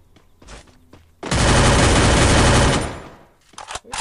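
A loud sustained burst of rapid automatic gunfire in the game Free Fire, lasting over a second, framed by quieter game noises and a few sharp shots afterward.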